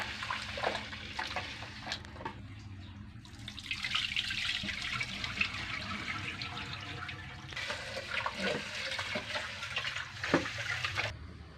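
Rice being washed under running tap water for sinigang, with a continuous rushing flow that swells in two longer bursts, punctuated by small clunks and splashes nearby.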